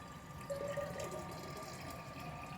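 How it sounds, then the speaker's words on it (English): Water pours steadily into a cooking pot of chipotle chicken spaghetti, a faint, even splashing stream that carries on for a few seconds with no voices. "add a little taste of water"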